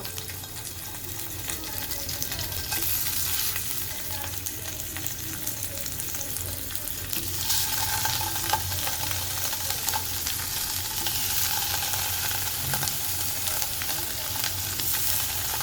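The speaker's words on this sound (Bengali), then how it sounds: "এরপরে পনিরের টুকরোগুলোকে একটু ভেজে নেব।" Paneer strips brushed with ghee frying in a pan, a steady broadband sizzle that grows fuller partway through, close and continuous with no talking.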